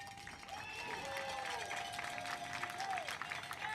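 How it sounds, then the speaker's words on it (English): A distant crowd at a high school baseball game, Georgetown Eagles vs. Weatherford Kangaroos, gives a faint round of applause for both teams, scattered clapping under a stadium public-address tone. "How about a fine round of applause for both teams?"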